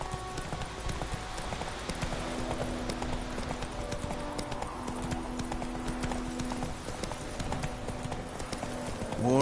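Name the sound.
horse hooves galloping in the video game The Witcher 3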